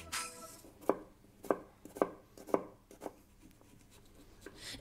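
A knife chops onions on a board while a German braised rabbit is prepared: five crisp, evenly spaced cuts ring out close and clear, followed by a softer tap and quiet kitchen background.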